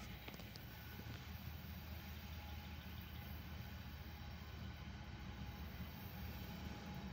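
A Norfolk Southern container freight train with two locomotives comes down a hill, a steady low rumble heard from a distance, quiet and continuous, with a brief click near the start and no talking.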